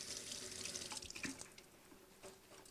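Food gets rinsed under a running kitchen tap, a steady close splashing hiss of water with small bursts as the stream hits the food.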